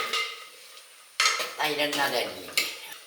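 Jaggery for puliyinji being stirred in a pot to dissolve, making a spoon's scraping and scratching sounds in a few close strokes, with light clinks against the metal and a faint sizzle.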